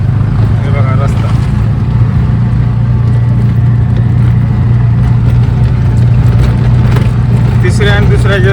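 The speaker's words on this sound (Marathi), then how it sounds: "तिसऱ्या आणि दुसऱ्या गिअरवर गाडी चालवते." Auto rickshaw in second and third gear on a badly potholed road near Jamkhed during a Pune-to-Beed trip: a loud, close, steady engine drone with rattling and bumps, and voices faintly present.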